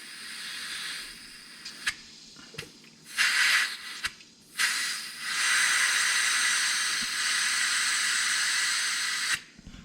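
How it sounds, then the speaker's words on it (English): Steam hisses in loud bursts from the pressure relief valve of a pressure cooker holding split pea soup, with several short spurts before a long, steady jet that runs on for several seconds and then cuts off. "That's the pressure relief valve."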